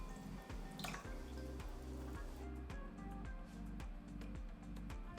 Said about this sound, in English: Add your batter into a jug or pitcher with a spout.